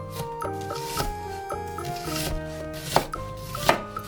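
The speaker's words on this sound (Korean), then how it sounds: "양파를 잘라주세요." A knife chops half an onion on a cutting board in quick, even strokes, close and crisp, with soft music playing underneath.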